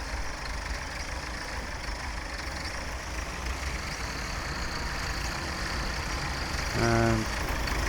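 Vintage tractor on a potato farm during a 1961 autumn harvest, engine running steadily with a loud broadband drone that swells slightly, plus a brief tonal beep or horn near the end.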